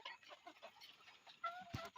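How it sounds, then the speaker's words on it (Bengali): Faint, soft clucking and small peeping calls from 20-day-old ducklings and chicks, scattered and quiet, with a sharper call near the end. "এই যে দেখুন আমার হাঁস মুরগির বাচ্চাগুলো"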